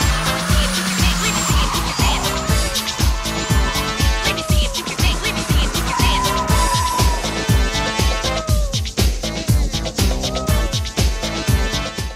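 Tires squeal and skid continuously on a skid pad while a 1996 Toyota Previa Supercharged minivan's mid-mounted engine drones loudly underneath, sustained throughout with no talking.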